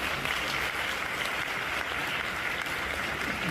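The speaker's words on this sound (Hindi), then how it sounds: "जो भारत माता से प्यार करता हुआ ताली बजाए" Audience clapping at a live comedy roast, a steady dense wash of applause held at an even level throughout, with no voices rising above it.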